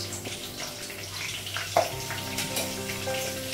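Green chilies with cinnamon and small cardamom sizzle in hot oil, a soft continuous frying hiss with a few sharper pops, heard close up at low volume.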